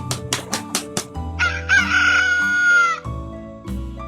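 A rooster in a cartoon moral story crows loudly and clearly, a long drawn cock-a-doodle-doo following a few sharp clucks, with music in the background.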